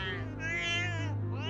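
A cat meows in a long, drawn-out, wavering cry from the animated film Soul, close and clear with no speech over it.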